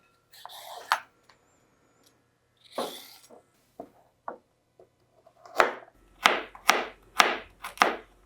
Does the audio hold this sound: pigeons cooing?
no